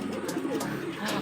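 Racing pigeons coo softly at a loft after a derby race, low throaty calls against a steady background hum, with no talk over them.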